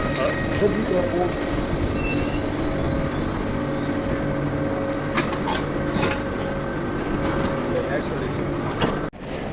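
Steady hum and rumble inside a railway station in Valencia, with a faint metallic clatter and a clunk near the end that drops the noise briefly.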